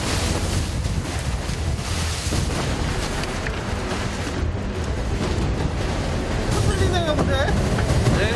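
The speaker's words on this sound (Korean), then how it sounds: "지금 파도 있어요, 파도." Rough sea waves wash and slap around a traditional octopus fishing boat under heavy wind buffeting, a loud continuous roar with faint voices or tonal chirps surfacing toward the end.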